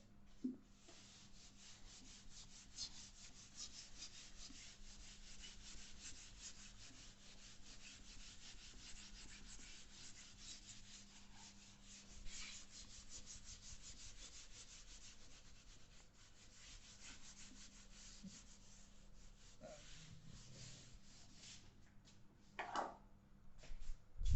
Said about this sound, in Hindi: जब तक मैं बोर्ड रब कर लेता हूँ